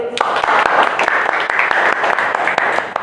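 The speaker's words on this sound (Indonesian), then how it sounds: "Tepuk tangan buat Alvin" A classroom of students claps for a classmate after his presentation, a dense burst of many hands that carries on steadily through the short stretch, fairly close and loud.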